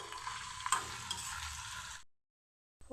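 Chopped ginger and whole cumin seeds sizzle in a pan, a close, soft crackling hiss with a couple of sharp pops, cutting off abruptly into silence before a brief burst returns.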